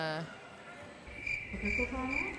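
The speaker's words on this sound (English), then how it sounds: "crickets for the team timeout. Crickets with the team timeout." Crickets chirp as a comedic sound effect during a team timeout at a basketball tournament, a steady high trill running under crowd noise and voices.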